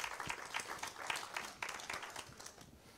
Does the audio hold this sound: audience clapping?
yes